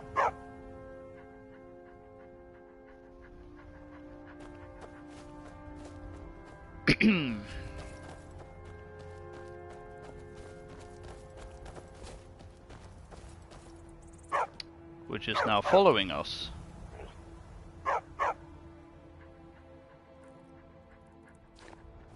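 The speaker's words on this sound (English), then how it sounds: "A stray dog." A stray dog in Skyrim gives two short bursts of barking, one near the start and a louder one midway, while someone talks calmly over quiet game ambience.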